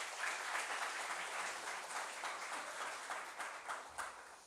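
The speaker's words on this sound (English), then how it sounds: "may I please request a huge round of applause for him" Faint, steady applause from the audience at an online memorial lecture, a dense, even patter of many hands clapping with no voices over it.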